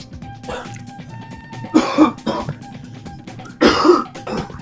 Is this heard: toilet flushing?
no